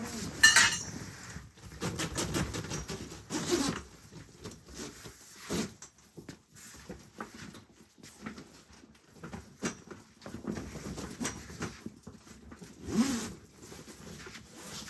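A zipper is run around a grow bag or tent during an indoor autoflower grow, giving short rasping pulls amid clinks and handling noise, with quiet gaps between bursts.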